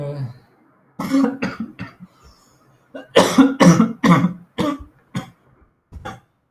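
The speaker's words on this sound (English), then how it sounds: "it's a cough." A string of coughs, several short bursts clustered together with brief pauses between, close and moderately loud, beginning right after some speech.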